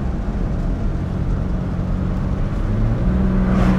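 A 1971 Mercedes 250 CE W114 coupé drives with a steady low engine drone and road rumble throughout, close and constant, rising slightly near the end.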